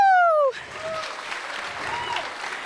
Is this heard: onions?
no